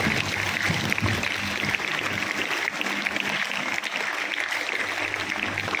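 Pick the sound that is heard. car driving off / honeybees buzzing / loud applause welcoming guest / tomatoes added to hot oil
loud applause welcoming guest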